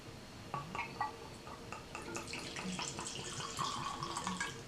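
Evan Williams Bottled in Bond bourbon is poured from a screw-top bottle into a small glass, a faint, steady liquid trickle with light splashes and drips, heard alone.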